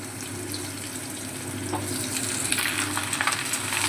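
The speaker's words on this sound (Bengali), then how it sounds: "এবারে আমরা কেটে রাখা চাল কুমড়োটা তেলে দিয়ে দিচ্ছি।" Chopped ash gourd tipped into hot oil with a curry-leaf tempering, a steady close sizzle that swells into louder, crackling frying midway, with no talk.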